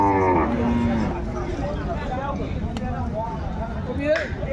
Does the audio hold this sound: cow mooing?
yes